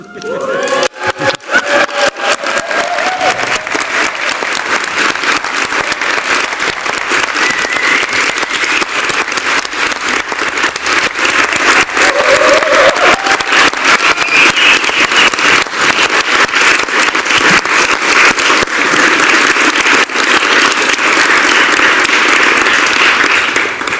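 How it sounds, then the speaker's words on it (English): A crowd at a film talk claps loudly and steadily for special guests, a dense, continuous roar of applause lasting the whole stretch with a voice briefly heard at the start. "You have clapping more than me."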